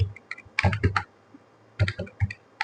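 Fingers tapping a computer keyboard to fill in a form, two short clusters of crisp keystrokes separated by a quiet gap, close and clear with no voice over them.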